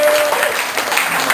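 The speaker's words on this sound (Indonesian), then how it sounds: "Tepuk tangan dong, luar biasa." Audience applause at a stand-up comedy show in a coffee venue, a dense steady wash of clapping filling the short moment at fairly strong level with no clear voice over it.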